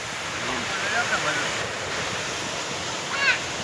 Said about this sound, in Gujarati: આ પાણીનો ધોધ, આ ગરધરા,